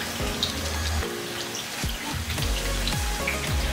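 Wheat flour chips fry in hot oil, giving a dense, steady crackle of popping bubbles with irregular sharper sizzles, close and fairly loud throughout.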